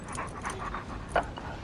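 A dog pants quietly and steadily at close range, with one brief sharper whimper near the end, low in level against faint background noise.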